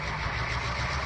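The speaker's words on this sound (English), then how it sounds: "Now Kenny's going to take his GP38 and run light back up toward the engine service facility for Tidewater." A GP38 diesel locomotive running light in the Trainz 2019 simulator gives a steady, close engine drone with a low throbbing rumble, constant throughout with no talk.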